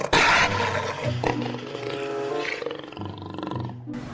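A tiger roars loudly and close at the start, then gives lower drawn-out growls and rumbles, with no talking.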